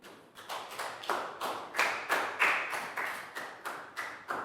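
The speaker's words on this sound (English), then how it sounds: "big round of applause for Bangpon" A few people clapping for a pupil in a primary classroom, a short run of sharp, fairly close claps in an uneven rhythm that rises and falls over several seconds.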